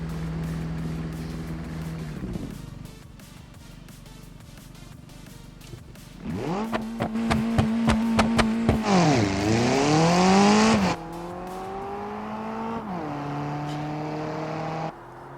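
A car engine in the BeamNG driving game revving and accelerating through gear changes: a droning tone climbs in pitch, drops at each shift, then surges louder and rougher mid-run before settling into a steadier hum.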